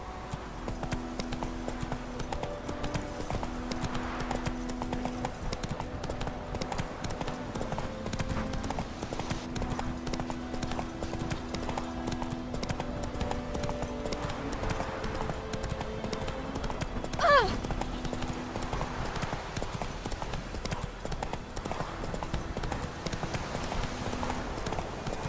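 Roach, a horse in The Witcher 3 video game, walks with a steady, even clip-clop of hooves that runs close and continuous over a soft ambient music bed, with a brief vocal sound partway through.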